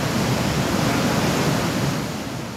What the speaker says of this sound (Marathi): नाशिकचं पर्यटन स्थळ असलेला सोमेश्वर धबधबा प्रवाहित झालाय